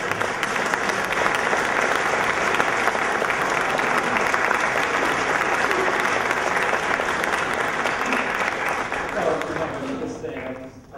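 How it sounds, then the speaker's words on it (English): Warm applause from a conference audience at an on-stage conversation event, dense steady clapping filling the hall for about ten seconds before fading out at the end, with no speech over it. "So let's give her a really warm clap."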